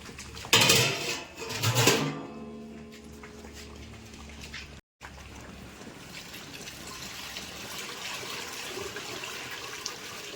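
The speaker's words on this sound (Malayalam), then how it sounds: "അപ്പോൾ 2ാം പാൽ ഒഴിക്കാൻ സമയമായിട്ടോ." Second coconut milk being poured into payasam for an Onam feast, a burst of pouring and splashing with faint vessel clinks in the first two seconds, then a steady low simmering hiss.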